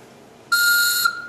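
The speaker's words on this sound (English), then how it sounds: "Make sure I still got a good whistle." A single steady, high-pitched whistle blown on a wooden whistle for about half a second, clear and close, after a moment of quiet.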